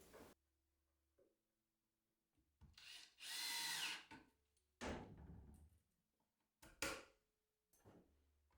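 A power drill drives screws for push fittings into wood on a cocktail case, several short separate whirring bursts with quiet pauses between, close and clear, with no talk heard.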